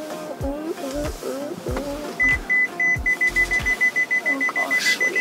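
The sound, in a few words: electronic beeping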